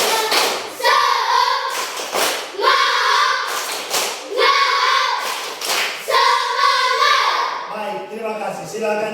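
A class of elementary children repeats a rhythmic spirit clap routine. Loud, close volleys of hand claps alternate with their group chanting in a steady pattern, ending with a brief trailing voice.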